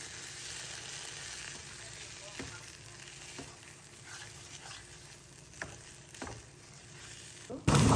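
Marinated meat cooking in a pan on a stove, a steady moderate sizzle with occasional stirring taps and clinks, ending in a sudden loud clatter.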